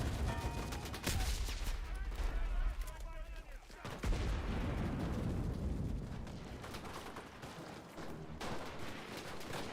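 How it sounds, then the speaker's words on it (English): Loud blasts and gunfire crash through a Battle of Berlin fight in the video game Enlisted, with a heavy grenade or explosive detonation rumbling amid steady combat noise and a voice talking over it. "That's a grenade. Or that's an explosive."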